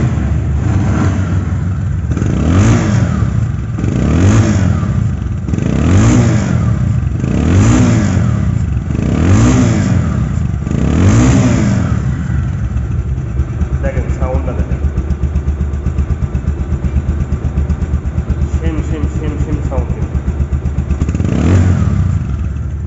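A Bajaj Pulsar double-disc ABS motorcycle engine idles steadily and is revved repeatedly in a series of rising and falling blips, loud and close, with a final rev after a calmer stretch of idling.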